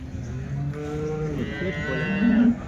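Cattle at the weekly Punganur cattle market moo several times in low, drawn-out calls close by, with a louder bellow near the end over steady market bustle.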